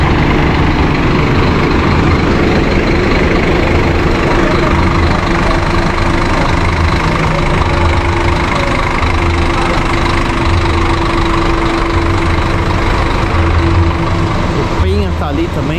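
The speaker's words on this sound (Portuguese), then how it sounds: "Acionou aqui o motor, o Expresso do Sul." An Expresso do Sul intercity bus engine running at a steady idle, loud and close, with a constant low rumble throughout and a slight change near the end.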